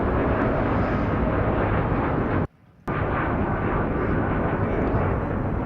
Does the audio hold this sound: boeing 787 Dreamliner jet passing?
yes